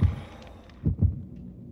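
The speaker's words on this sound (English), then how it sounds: "I hear the heartbeat." Dead by Daylight's killer-approach heartbeat while playing against the Wraith: deep, muffled thumps in pairs, one double beat at the start and another about a second later, loud and low over faint background hum.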